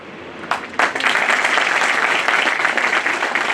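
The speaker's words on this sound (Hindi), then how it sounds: "आज ताली आप अपने लिए बजा रहे हो" An audience at a Bar Council of Delhi enrolment ceremony claps for newly enrolled advocates. The applause starts with a few scattered claps, then swells into a steady, dense roar that holds to the end, with no talking.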